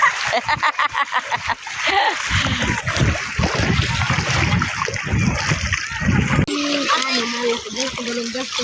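Water splashes and trickles repeatedly as people bathe outdoors, with children and adults talking and calling over the steady watery commotion.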